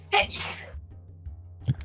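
A single sharp sneeze close to the microphone, a quick intake then an explosive burst, followed by a faint voice murmuring briefly afterward.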